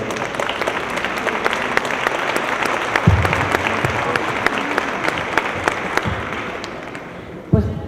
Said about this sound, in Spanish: a quien les pido que recibamos con un fuerte aplauso